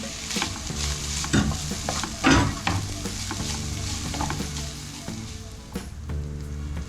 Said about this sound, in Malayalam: അങ്ങനെ നമ്മൾ മീനും കൂടി ഇട്ട് അതൊന്ന് വഴറ്റിയെടുത്തിട്ടുണ്ട്.